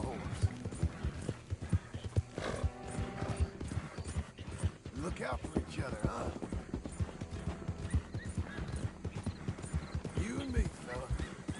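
Horse hooves clip-clopping at a steady walking pace in Red Dead Redemption 2, continuous and close, with a brief whinny and a voice talking over the steps.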